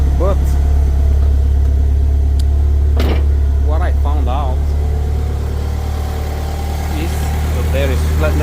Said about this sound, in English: You see, I rev it up and it's charging now. So, and the belt is still squealing